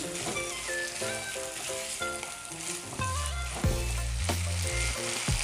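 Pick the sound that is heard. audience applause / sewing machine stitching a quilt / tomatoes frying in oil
tomatoes frying in oil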